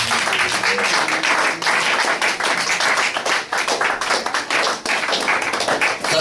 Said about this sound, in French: Applaudissez pour la gloire de Dieu.